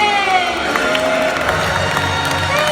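Audience at the end of the Great Movie Ride at Disney's Hollywood Studios reacting with cheers, whoops and scattered clapping, a short, loud burst of crowd noise.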